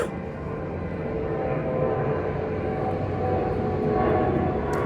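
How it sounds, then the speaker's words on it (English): An airplane flies overhead, a broad, steady engine roar that swells slightly over several seconds with no speech over it. "Oh, another plane."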